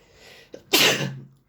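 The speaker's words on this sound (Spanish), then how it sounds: "Hoy, un estornudo." A single loud, close human sneeze, with a short intake of breath and then a sharp burst that trails off over about half a second.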